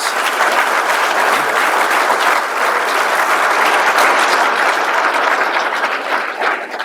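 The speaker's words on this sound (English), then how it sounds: "Big round of applause for our inductees." A ceremony crowd at the 2023 Bucknell Athletics Hall of Fame event gives the inductees a loud, continuous round of applause that stays full and even from start to finish.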